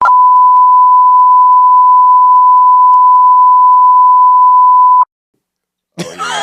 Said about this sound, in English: I'll beep this out